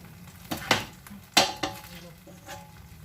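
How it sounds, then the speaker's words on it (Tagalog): Ingredients are sautéed in a pan for pork chops with onion and tomato. A low sizzle runs under several sharp scrapes and clanks of a utensil against the pan, heard up close. "hanguin muna natin, tapos igisa natin yung mga sangkap."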